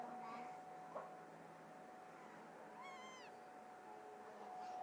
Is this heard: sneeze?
no